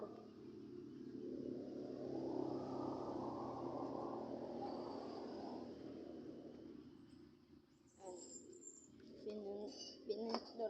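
Pigeons coo softly outdoors in a low, murmuring drone, with a few faint chirps and clatters near the end; the overall level is quiet.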